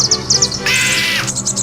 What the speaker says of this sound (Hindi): चिड़िया की चीख सुनते ही मैं डगमगा गया